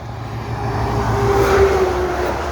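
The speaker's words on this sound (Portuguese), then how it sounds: "Esse caminhão passou aqui perto, meu Deus." A truck passes close by on a road, a loud, broad engine rumble with rushing road noise that swells toward the middle and eases off again, with no voices.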